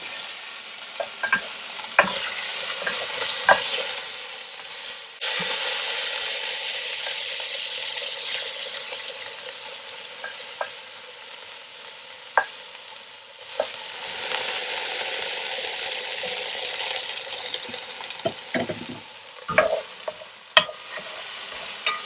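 Beef pieces sauté in a cast iron pan with a broad steady sizzle, swelling louder in long stretches while occasional utensil scrapes and taps sound close by.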